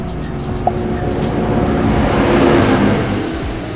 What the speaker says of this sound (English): That was a tractor.